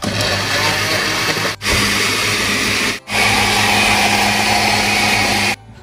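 A kitchen blender whirs loudly and steadily as it purées a creamy orange sauce for a lean pork leg dish, cutting out briefly twice before stopping near the end.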